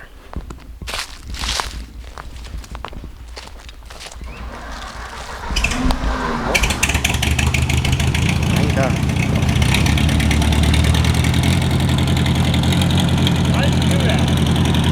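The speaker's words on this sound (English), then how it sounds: "But that can't happen until this tractor starts" Clattering and rustling, then a tractor engine with a suspected gas line fault cranks and catches at about five seconds and settles into a loud, steady rumbling idle, close by.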